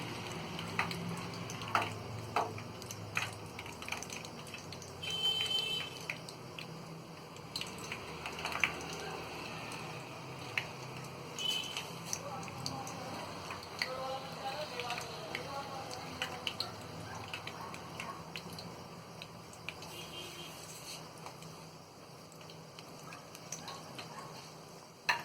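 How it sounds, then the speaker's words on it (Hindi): Potato samosas, four or five at a time, fry gently in slightly cool oil over a low flame, giving a soft, steady crackle and fizz with scattered drips, under faint talking. "एक बार में हम 4 से 5 समोसे ही डाल के तलेंगे और गैस हम बिल्कुल मद्दी रखेंगे"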